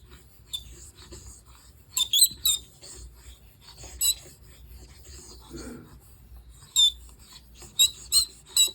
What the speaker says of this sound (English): I was unfortunately met with this consistent, awful squeaking sound that came from the stylus anytime I attempted to draw